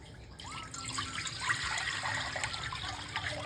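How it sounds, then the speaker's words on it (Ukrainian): Three litres of cold water pour in a steady stream into a pot, a soft splashing gurgle that starts after a brief pause and continues evenly. "Далі в каструлю наливаємо 3 літри холодної води."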